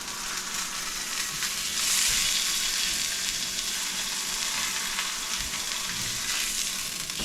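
Chunks of pot-roasted pork sizzle and fry steadily in a hot pot, with a continuous crackling hiss that swells briefly as the meat is flipped and stirred.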